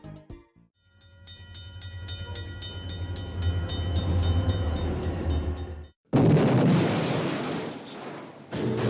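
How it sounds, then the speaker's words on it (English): A cartoon-style streetcar sound effect: a loud rumbling rail vehicle with bell-like tones rolls in and grows nearer for several seconds, cuts out abruptly, then a harsh crashing burst follows. "I sure do wish to be run over by a streetcar"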